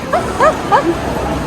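A dog whines in short, rising yelps, three or four plaintive whimpers with a small bark-like yip at the end, close and fairly loud, with a quiet indoor background and no talk over it.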